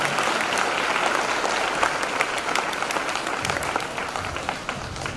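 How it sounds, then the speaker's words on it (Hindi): A congregation at a Christmas prayer meeting in Gadchiroli, Maharashtra, claps loudly and steadily in thanks to God. The dense, continuous applause fills a hall, with a few voices faintly mixed in. "आइए जोरदार ताली बजाकर उस परमेश्वर का धन्यवाद करें।"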